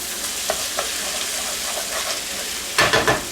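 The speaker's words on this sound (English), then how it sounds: "I'm just going to go ahead and give this a stir real fast" Ground beef with vegetables is stirred in a frying pan: a continuous sizzle with a few scraping knocks of the utensil and a louder burst of stirring near the end, with no talk.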